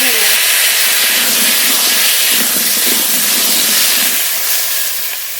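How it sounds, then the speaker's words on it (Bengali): Potatoes fry in oil left over from frying foli fish, making a loud, continuous hiss of sizzling close by that eases off slightly at the end. "মাছের তেলের ভেতরেই আলু ভেজে নেব"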